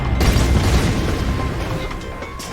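A grenade launcher explosion in the retro first-person shooter Ion Fury: a loud, sustained boom with rumbling low end that decays over a couple of seconds, with no speech over it.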